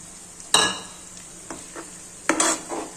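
Chopped tomatoes stirred and sautéed in a pan while making cheese paneer gotalo, with a couple of distinct scraping stirs and a soft sizzle underneath. Fainter clicks of utensil against the pan fall between them, and no one speaks.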